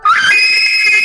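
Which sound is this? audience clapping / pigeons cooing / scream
scream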